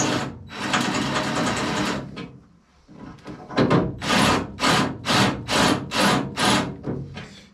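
A drill grinding through Escort Cosworth wing body metal near heavy welds: one long continuous bore, a short pause, then a series of rhythmic repeated bursts, loud and close.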